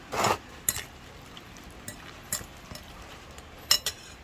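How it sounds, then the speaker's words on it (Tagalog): Tofu being mixed into a seasoning mixture for a tofu and pork dish, with scattered clinks of a utensil against a bowl and soft stirring scrapes, fairly quiet and irregular. "halo-haloin muna natin yung ating tokwa sa mixture para ma-absorb niya"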